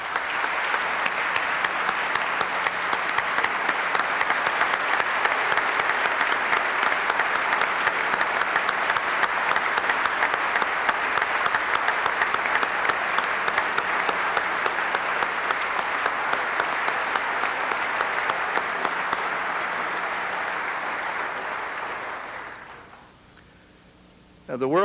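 A large audience at the 2003 World Food Prize ceremony gives John Ruan III and the Ruan family a long, steady round of applause, dense and loud for over twenty seconds before tapering off abruptly.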